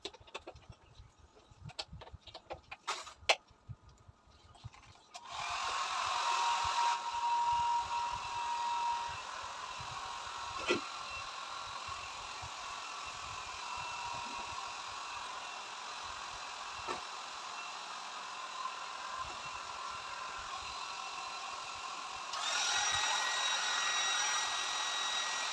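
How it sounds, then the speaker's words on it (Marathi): A hair dryer blows steadily while drying hair, switching on after a few seconds of scattered handling noises and running as a loud, even whoosh, briefly changing speed near the end. "सो चला ड्रायर मारून घेवया."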